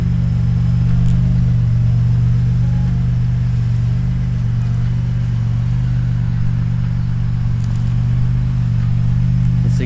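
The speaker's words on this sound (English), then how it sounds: "And there goes my car." A 1991 Lexus ES250 idles and rumbles with a steady low engine drone, loud and close throughout, with no voices heard.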